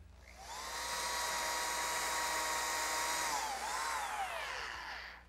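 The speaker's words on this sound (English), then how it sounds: "With the same dovetail bit mounted in my router, which is now under this router table, I'm able to make the male part of that dovetail joint." A router spinning a dovetail bit, mounted under a router table, cuts the male part of a dovetail joint for a pine chest, a loud sustained high whine that dips in pitch as the bit bites, then winds down at the end.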